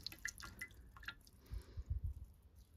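Water runs from a faucet into a small sink inside a van, heard as faint dripping and splashing, then as low, soft, close-up gurgles of water hitting the basin.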